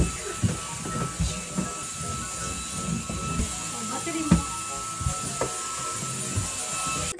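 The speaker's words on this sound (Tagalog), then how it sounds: "bali mag-vacuum na lang" A household vacuum cleaner runs steadily while the house is cleaned, giving a continuous close hissing motor drone with faint knocks and shifts as it moves across the floor.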